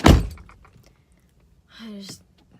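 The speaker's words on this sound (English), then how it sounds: "I just closed my charger in my door." A car door slams shut on a charger cable with a single sharp, heavy thunk at the very start, quickly fading, followed by a brief spoken voice.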